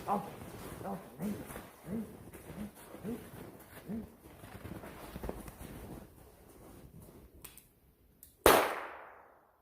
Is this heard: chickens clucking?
no